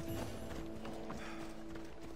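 A horse's hooves clip-clop at a walk in Assassin's Creed Odyssey, giving a quiet, steady run of close hoof strikes over a low game-world hum.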